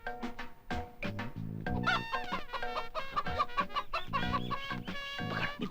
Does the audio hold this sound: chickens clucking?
yes